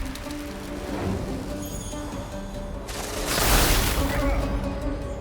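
A hail strike spell from Divinity Original Sin 2: Definitive Edition lands as a dense, hissing patter of icy impacts that builds into a louder crashing burst midway, then fades, with a soft game background underneath.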